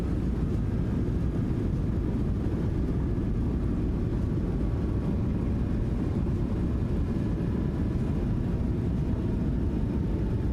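Boeing 737-700 thrust reversers on landing in the PMDG flight simulator, a steady, dense roaring rumble that holds at a constant level throughout with no voices.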